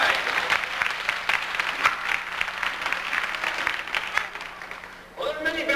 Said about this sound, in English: Give yourself a great big round of applause there.